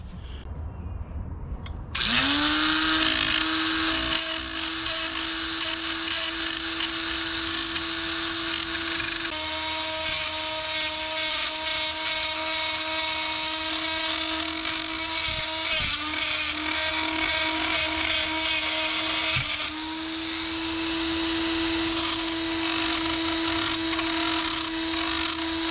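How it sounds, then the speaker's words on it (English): Rotary tool cutting and porting an aluminum K20 oil pump: a steady high-pitched motor whine with grinding that starts after a brief pause, holds loud and close, and dips briefly twice while the bit bites the metal. "I'm cutting the aluminum, a little bit of the metal"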